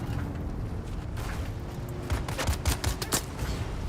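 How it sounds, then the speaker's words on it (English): Rapid bursts of gunfire in the video game Dune Awakening: a steady crackling barrage that swells into louder, closely spaced shots toward the end, with no voices. "Who's shooting?"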